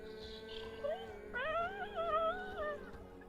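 A person imitates a cat's meow, a wavering, pitch-bending vocal whine that rises and falls over a couple of seconds, close to the microphone.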